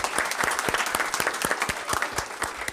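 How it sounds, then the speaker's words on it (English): Steady applause from an audience at a school district board meeting, many hands clapping densely and continuously at moderate loudness with no voices standing out. "Can we get a round of applause for those 47 top scholars?"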